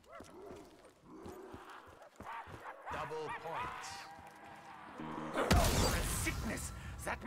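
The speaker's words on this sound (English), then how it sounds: "Okay, the dogs barking are great." Dogs bark repeatedly in the Black Ops 3 custom zombies map 1938: Full Circle, a run of sharp yelping barks over game noise that swells into a louder burst near the end.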